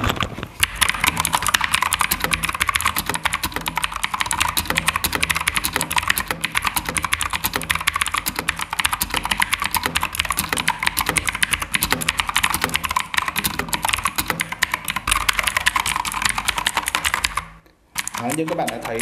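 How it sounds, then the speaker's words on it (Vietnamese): Rapid, continuous clicky keystrokes on a 1ST Player MK6 RGB mechanical keyboard with blue switches, typed close to the microphone for a long stretch before stopping abruptly near the end. "bây giờ mình sẽ gõ thử một đoạn văn bản cho các bạn coi nhé"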